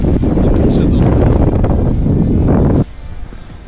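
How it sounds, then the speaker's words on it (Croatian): Strong gusty wind blows across the microphone on an outing in Tuscany, a loud low roaring buffet that holds steadily and then drops off sharply near the end. "Sad vidite kako puše."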